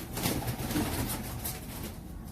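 Zard Ambarssary pigeons coo softly in a loft, a faint low murmur of calls against a noisy background, with no talk.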